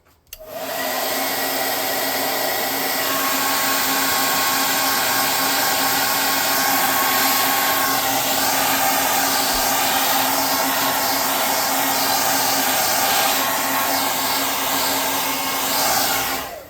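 A hair dryer dries the roof of a scale model hangar built as tabletop RPG terrain, giving a loud, steady, unbroken blowing whir close by for about sixteen seconds with no talking.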